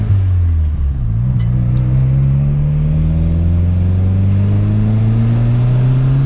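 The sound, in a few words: orange VW Golf turbo 300 hp car accelerating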